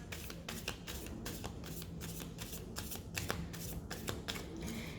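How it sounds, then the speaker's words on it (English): Tarot cards being shuffled by hand, a faint but steady series of quick papery riffles and flicks that repeat in uneven bursts. "So first I'm going to clear the cards."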